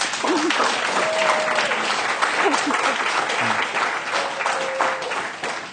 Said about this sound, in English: let's clap for true parents